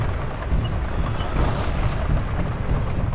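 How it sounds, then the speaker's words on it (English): A Gauss rifle or PPC hit in the mech combat game MechWarrior Living Legends lands as a loud, close, roaring boom that rumbles continuously without distinct breaks. "We just took fire from a Gauss or a PPC"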